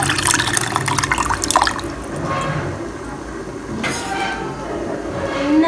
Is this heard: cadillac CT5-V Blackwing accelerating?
no